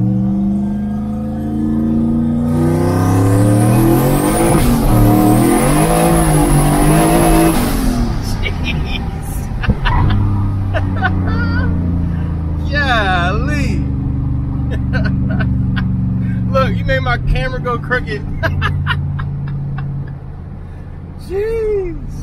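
A custom turbocharged Honda H22 mid-mount car accelerates hard through several gears, its engine loud and rising, with turbo whistle and audible shifts as people talk and react inside the cabin.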